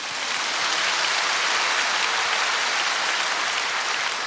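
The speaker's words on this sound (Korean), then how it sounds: "하나님께 한번 박수하십시다" A church congregation during a sermon bursts into loud, dense, sustained applause, a steady roar of many hands clapping without pause.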